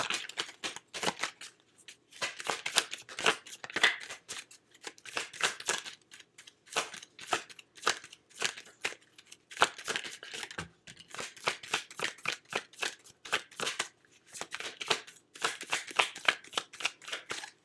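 A deck of oracle cards is shuffled by hand, with repeated crisp riffling and flapping in close, uneven bursts separated by brief pauses, quiet and with no talk.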